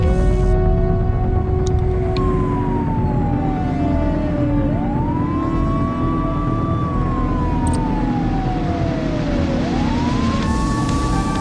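Wailing police siren from a vehicle pursuit in The Precinct police game, a continuous rising and falling electronic tone sweeping loudly over a steady roar of engine and road noise, with no talking.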